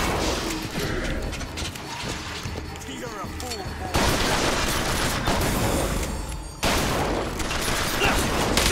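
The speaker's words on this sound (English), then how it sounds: "Shotgun." Shotgun blasts from the video game Bioshock Infinite: two loud, sharp booms land a few seconds apart over a busy background of game noise.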